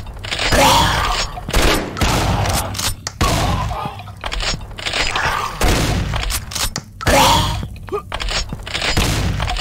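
Shotgun blasts in the shooter game Hell Hunt, a series of loud, heavy booming shots fired in irregular bursts over several seconds, with clanking mechanical sounds between shots.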